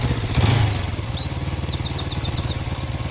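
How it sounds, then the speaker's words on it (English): A small motorbike in a quiet village in Postman Pat, its engine puttering with a steady low pulse close by while birds chirp above. "And here's Peter Fogg on his motorbike."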